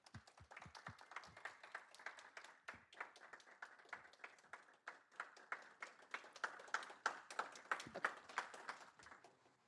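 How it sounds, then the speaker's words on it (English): A club meeting audience claps for its sponsors, a smallish group whose individual hand claps stay distinct. It starts sparse with a few heavier claps, then builds to a rapid, fairly even patter, faint and somewhat distant. "Please clap it up for our sponsors."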